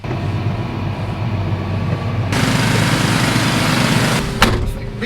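A farm tractor's engine running loud and close as it turns around, a steady droning rumble that grows brighter and louder midway, with a few sharp clanks near the end.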